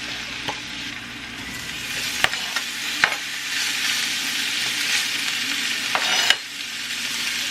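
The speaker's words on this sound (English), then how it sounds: "I'm going to add in all the meat and start browning the meat on that side" Kielbasa sausage browns in a cast iron pan over a flame, a continuous close sizzle and fry broken by a few sharp clanks of a utensil against the pan.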